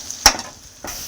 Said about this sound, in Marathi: हिरव्या मिरचीचं वाटण थोडंसं परतून घ्यायचं आहे तेलामध्ये